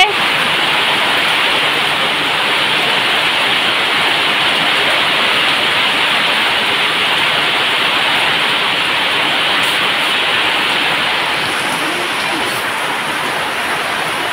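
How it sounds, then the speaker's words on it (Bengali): Heavy rain pours down in a rural Bengal village during a power cut, a dense, loud, unbroken roar of falling water that fills the whole span with no pauses and no talk over it. "খুব জোর বৃষ্টি হচ্ছে"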